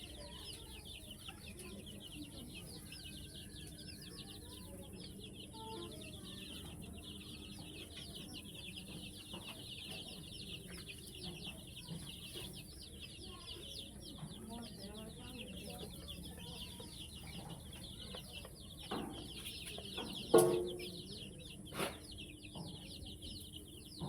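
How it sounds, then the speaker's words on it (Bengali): Many Egyptian Fayoumi chicks peep continuously in a busy, high-pitched chorus, fairly faint and steady throughout, with a few louder knocks near the end. "এখানে দুইশো পিস অরিজিনাল মিশরীয় ফার্মি মুরগির বাচ্চা আছে"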